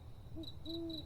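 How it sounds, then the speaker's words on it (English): An owl-like bird hoots softly at night on a roof, giving one short hoot and then a longer, sustained one. The calls are faint over a low, steady background hum. "The birds on the roof have been keeping me up all night."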